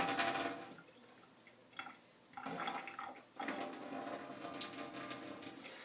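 Tap water runs into a blender jug, filling it about halfway while a smoothie is being made, a steady splashing gush that stops briefly and then resumes, close and fairly quiet.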